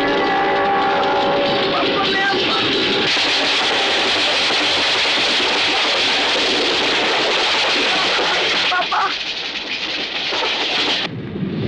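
A car drives with a loud, steady roar of road and engine noise that carries on throughout, then thins out abruptly near the end.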